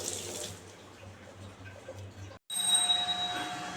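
Running tap water splashes over kitchen utensils being rinsed after frying fish in mustard oil, a steady wash that cuts out briefly before gushing back louder and brighter.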